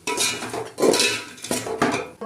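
A spoon stirs chilli, turmeric, peanuts and dal in a pan for a crispy puffed rice snack, giving close scraping clinks of metal on metal in several short bursts with brief pauses between them.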